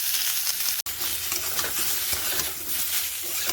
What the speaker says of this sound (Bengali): সবজিগুলো অল্প একটু ভাজা ভাজা করে নিয়েছি